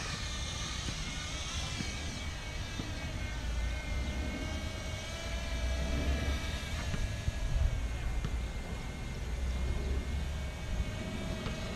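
A micro drone flies with a continuous high propeller whine that shifts slightly in pitch, steady and fairly loud over a broad noisy background.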